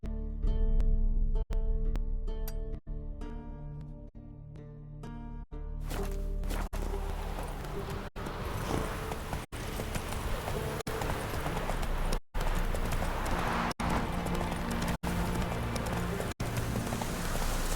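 Roach, a horse in The Witcher 3 video game, plods with a steady clip-clop of hooves at a walking pace, heard over a continuous wash of game music and ambience.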